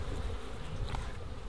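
Honey bees buzz in a steady dense drone during a Mallee hive inspection in the bush, a continuous close hum with no one speaking.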